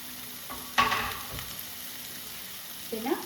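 Curry leaves dropped into hot oil, a soft sizzle and crackle that bursts up when they hit the pan, then settles into a quieter fry with a stir scrape near the end.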